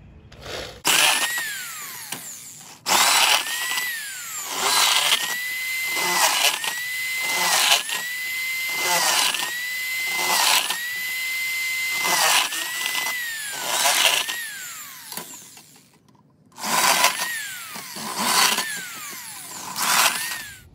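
A cordless drill with a worn battery whirs in repeated bursts while drilling a drain hole in a homemade hobo stove, each revving up and cutting out, with short pauses between runs and a longer gap near the end.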